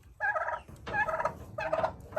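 A turkey gobbles three times in quick succession, loud and close, each burst a rapid warbling rattle separated by brief pauses.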